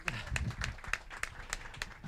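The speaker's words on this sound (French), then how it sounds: "On peut l'applaudir un petit peu pour l'encourager." An audience claps for a nervous startup pitch speaker, a brief, sparse round of separate hand claps that sounds fairly distant and thin.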